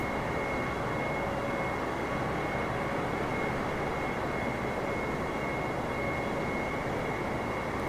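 Aircraft engine in Flight Simulator 2020 with the throttle pulled all the way off during a climb, a steady, even droning roar that holds unchanged throughout with a faint constant tone above it.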